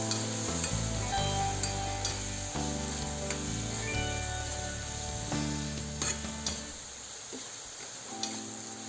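Salt and turmeric fry in hot oil in a pan for an Assamese drumstick curry, giving a steady close sizzle broken by the scrape and clink of stirring, which fades toward the end.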